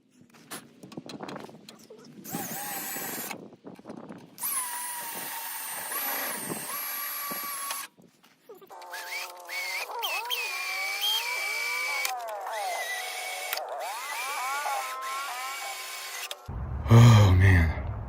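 A cordless drill drills out spot welds on a 2007 Honda Pilot's radiator core support, sounding as close, intermittent whining bursts whose pitch rises and sags under load, with short pauses between welds.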